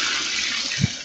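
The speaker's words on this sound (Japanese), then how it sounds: "ここに川があるんですけど" River water flowing in the mountains of Nagano, heard as a steady hiss of rushing water with a soft low thump near the end and no talk.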